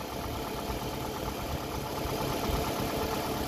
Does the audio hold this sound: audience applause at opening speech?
no